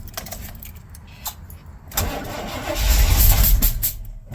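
A 1982 Chevy K10 that had sat for years cranks over and spits back through the intake, a rough uneven starter churn that swells into louder sputtering bursts near the end.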